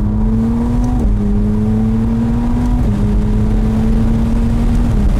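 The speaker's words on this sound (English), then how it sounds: "2 clicks of a button, and there fires in that V6" A 2024 McLaren Artura Spider's V6 engine fires up and runs steadily at a low, throaty pitch, with the tone stepping up and settling as it idles and revs slightly, close and loud.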